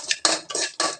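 Metal spoon clattering and scraping in a pan while sautéing a tempering for drumstick-leaf dal, three bursts of stirring in quick succession, close and fairly loud with no talk.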